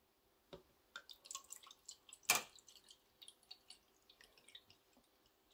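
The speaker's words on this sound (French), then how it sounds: "Voilà, je vais verser." Liquid is poured into an ultrasonic cleaner used for glasses and jewelry, producing faint, sparse drips and small splashes close by, with one brief louder splash partway through.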